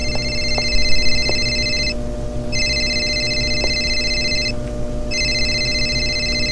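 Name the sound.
telephone ringing in a video game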